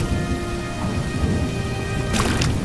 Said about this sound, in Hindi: लेकिन इतनी तेज बारिश में हम जाएंगे कहाँ?